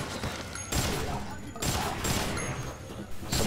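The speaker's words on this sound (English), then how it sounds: "Killing the enemy gives you these lovely machine guns." Loud machine gun fire in the video game Dead Rising, coming in long sustained bursts with brief pauses between them, close and dominant.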